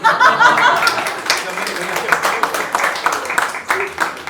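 A comedy show audience gives a burst of applause mixed with chuckles and laughter, steady clapping running under a man's amplified speech.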